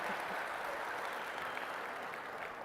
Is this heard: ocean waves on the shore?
no